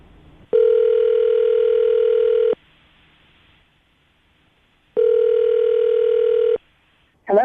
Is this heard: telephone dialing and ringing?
yes